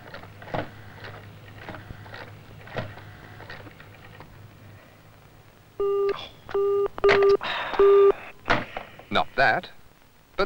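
Telephone line in a 1970s office after a call is cut off: a series of short repeated electronic tone beeps interrupted by clicks and handset rattling, with a voice talking before and during the tones.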